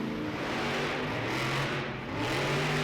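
A monster truck engine revs during a Monster Jam arena run at Royal Farms Arena in Baltimore, a continuous dense roar filling the indoor space with crowd noise blended in.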